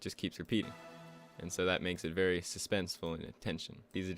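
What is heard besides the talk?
No everyday noises stand out.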